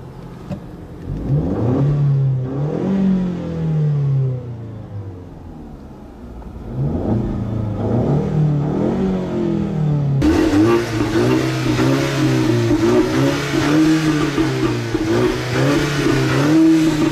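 A 2015 Ford Mustang EcoBoost with a 4-cylinder engine revs repeatedly, pitch rising and falling through several throttle blips, then settles into a steady louder drone as it drives, with no voices over it.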